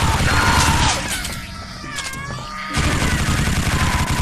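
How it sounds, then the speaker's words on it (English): A machine gun fires in the video game Gore, a dense, harsh stream of rapid shots with a short quieter stretch in the middle before the loud fire resumes. "It would be better if I just took out my machine gun now."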